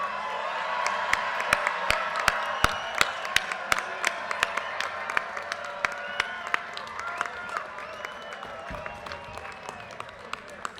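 Applause for a graduating class fills the hall with sustained clapping from a large crowd, scattered whoops and cheers rising through the sound.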